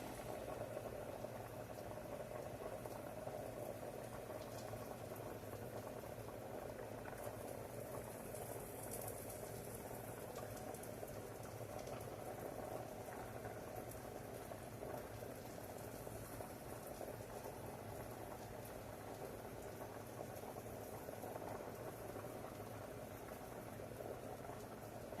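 Goulash simmers quietly in a pot, a faint, steady bubbling and low hiss that stays even and continuous throughout, with no voices over it.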